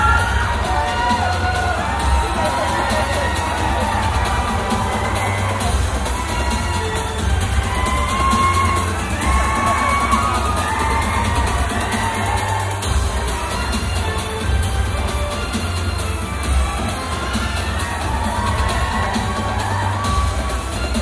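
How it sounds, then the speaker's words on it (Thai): A pageant audience at the Mister International Thailand event claps and cheers continuously, with whoops and shouts over dense, steady applause throughout. "ขอเสียงปรบมือด้วยครับ"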